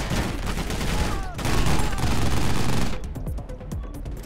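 An XM Hawk fires rapid, sustained bursts in the shooter game Armed Heist, loud and close, easing into sparser shots near the end.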